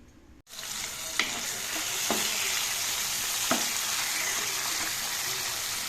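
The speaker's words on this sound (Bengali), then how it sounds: "এইখানে হচ্ছে ওলকপি ভাজা হচ্ছে" Kohlrabi frying in a pan gives a steady, close sizzle for nearly the whole stretch, with a few sharp scrape-and-clatter stirring strokes breaking through now and then.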